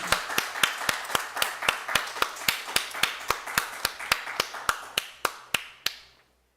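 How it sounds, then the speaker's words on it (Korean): A church congregation at an Easter service claps in steady unison, about twenty sharp, evenly spaced claps at a brisk tempo that stop abruptly, with no talking over them. "우리 박수 한번 다시 쳐주고 용기 주면 좋겠습니다."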